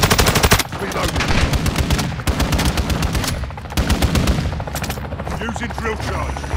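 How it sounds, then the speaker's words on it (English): Call of Duty Modern Warfare 2 chopper gunner fire rattles in long, loud rapid bursts of automatic gunfire with heavy impacts, nearly continuous across the clip with short gaps between volleys. "Chopper gunner is inbound."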